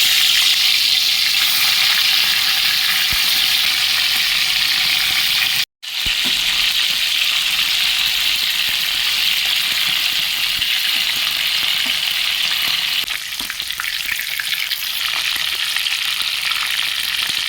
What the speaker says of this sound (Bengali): একে একে মাছগুলো আমি ভেজে নেব।